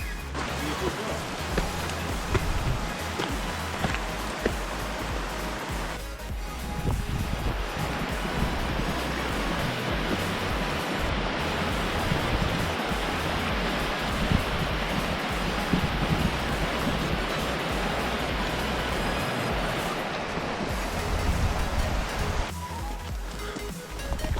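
A river flows beside a hill path on the Carn a' Mhaim walk in the Scottish hills, a steady broadband rush of water mixed with gusty wind buffeting the microphone throughout.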